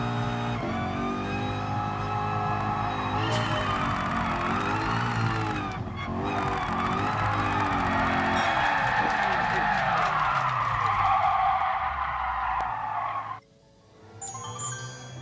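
Tires skid and squeal through a long drift in Gran Turismo Sport, loud and sustained over the race car's engine, with a voice talking over it before cutting off near the end.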